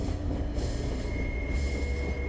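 A train rolls along as a steady low rumble with a thin metallic squeal riding on top, heard as a continuous background sound effect with no voices.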